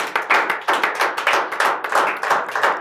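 An audience at an open mic poetry and shayari night gives steady, rhythmic applause. The clapping is close and sustained, rising and falling in quick pulses, with no talking over it.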